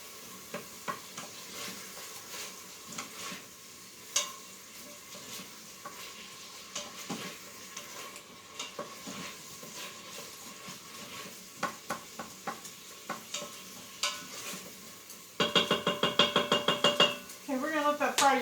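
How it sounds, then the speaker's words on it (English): Onions sizzle in an Instant Pot while a utensil stirs and knocks against the inner pot, with scraping taps scattered throughout and a denser burst of clatter near the end. "we're going to let that fry just a couple more minutes"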